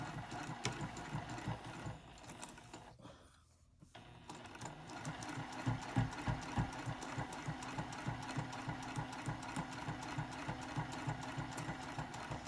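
Sewing machine running a quarter-inch seam on a lined box-bottom zipper pouch, a steady mechanical whirring stitch that pauses briefly once, then resumes at a brisk even pace.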